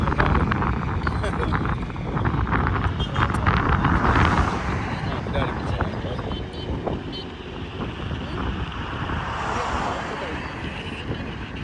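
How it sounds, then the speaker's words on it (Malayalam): Heavy wind buffets the microphone in continuous rumbling gusts during an outdoor birthday celebration, with a low roar throughout and faint voices underneath. "ഭയങ്കര കാറ്റാണ്, ഭയങ്കര കാറ്റ്."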